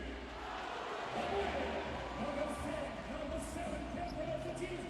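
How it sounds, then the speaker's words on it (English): A basketball arena crowd in Krasnodar roars steadily as fans welcome the Russian team at a FIBA World Cup qualifier against France, a dense, continuous wash of cheering and noise heard from a distance. "listen to the crowd here in Krasnodar as they welcome their Russian heroes"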